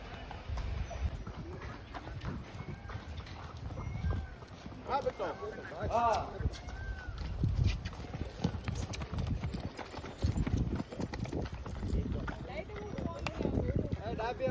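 Kathiyawadi pony hooves clop rhythmically on hard ground at a farm in Surat, close by, while people talk over the steady steps.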